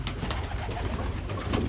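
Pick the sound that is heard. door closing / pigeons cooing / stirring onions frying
pigeons cooing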